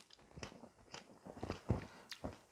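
Crispy fried banana peel vegan bacon being bitten and chewed up close, a quiet series of sharp, irregular crunches spaced a fraction of a second apart with no talking.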